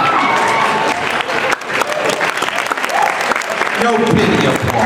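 An audience at a MAGFest voice-acting contest applauds, with dense clapping and crowd noise throughout, dipping briefly near the middle before swelling again.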